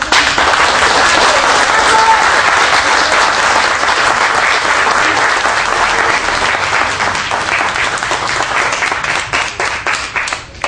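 An audience applauds a female oral storyteller at a railway-themed storytelling event, a dense, steady wash of clapping that holds loud for about ten seconds before thinning slightly at the end.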